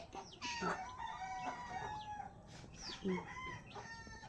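Several chickens cluck and a rooster crows nearby, calls overlapping in a busy farmyard chorus.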